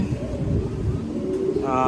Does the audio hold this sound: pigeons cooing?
yes